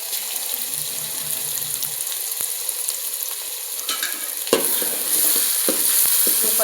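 Ginger paste is stirred into hot oil for a rustic mutton curry: a continuous bright frying hiss with a few sharp spoon knocks against the pan, growing louder toward the end.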